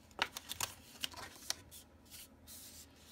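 Paper crafting with card stock, a few soft crisp rustles and creases as paper is folded and pressed shut, close and quiet with pauses between.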